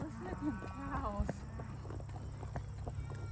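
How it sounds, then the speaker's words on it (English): Cattle low and moo in the distance amid outdoor background noise, with a person speaking briefly nearby. "Listen to them cows."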